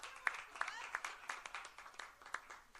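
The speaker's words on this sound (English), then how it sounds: "You got 2 rounds of applause then." Audience applause at a jazz concert, heard as faint, scattered clapping with uneven peaks, fairly distant and thin, lasting a few seconds.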